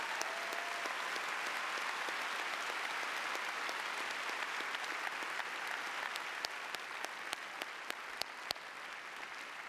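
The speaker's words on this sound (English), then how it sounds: "Please give these students a round of applause for their outstanding performance" An audience at a high school ceremony gives a long, steady round of applause, a broad wash of many hands with a few sharper nearby claps standing out as it slowly tapers toward the end.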